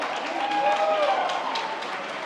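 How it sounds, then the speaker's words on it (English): Crowd applause at a gala dinner event, steady clapping mixed with voices and a faint whistle. "Let's give him a round of applause."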